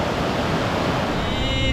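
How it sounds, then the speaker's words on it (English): A small mountain stream tumbling down toward the Laksha River, a steady broadband rush of flowing water close by, continuous and unbroken throughout. "This is one of the many small streams that flow from the mountains down into the Laksha River"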